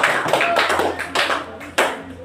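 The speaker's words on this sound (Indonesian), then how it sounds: "Kasih aplaus dulu." Applause from a fourth-grade class, a short burst of clapping with irregular peaks and a few sharper slaps, fairly close and fading unevenly.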